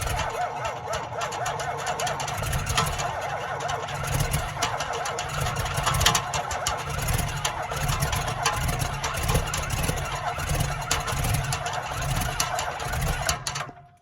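A tractor's diesel engine cranks and struggles to catch in about -10 degree cold, running rough and uneven, loud and close, with a steady low rumble throughout.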